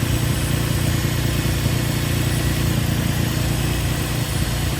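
A Nissan 350Z engine idles steadily while warming up, a loud, even low rumble with a constant mechanical hum and no talk.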